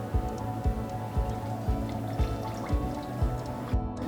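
Cups of water are poured into a container for raspberry jello, a close splashing trickle with a steady run of small rhythmic drips and glugs.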